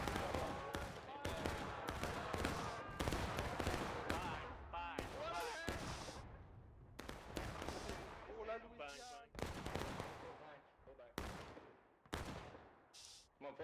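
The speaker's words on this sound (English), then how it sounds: "All fire at will!" Musket fire in the Civil War shooter War of Rights comes as repeated sharp, loud cracks, some in quick clusters like a ragged volley, with players shouting orders between and over the shots.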